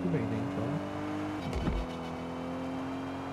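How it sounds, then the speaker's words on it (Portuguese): A rally car in the video game Drive Rally revs and drifts, its engine tone sweeping up and down with a brief skid burst midway, under a voice talking. "Falta o acelerador, o carro faz drift."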